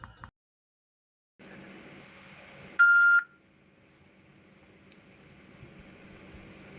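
Faint hum of a university phone line on hold breaks off into silence, then a single sharp electronic beep lasting about half a second rings out before the low line noise returns.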